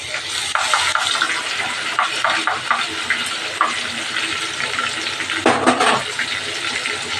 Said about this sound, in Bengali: এর মধ্যে আদা রসুন কাঁচা লঙ্কা টমেটো পেস্ট করেছি সেই মশলাটা দিয়ে দিলাম